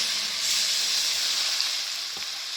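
Onions and garlic fry in very hot oil, giving a steady, close bright sizzle and hiss that holds evenly throughout with a faint stir near the end and no voices.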